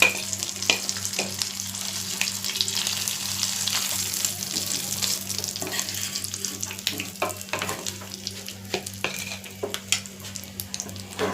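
Fish frying in a pan gives a steady, close sizzle with bursts of crackle and spatter over a low constant hum, with no talking throughout.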